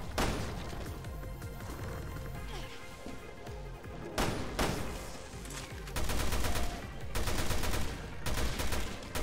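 Gunshots from a weapon in the survival horror game Resident Evil: Revelations 2, heard as a few single loud blasts followed by tight bursts of rapid fire, each crack sharp and close against a low, quiet background.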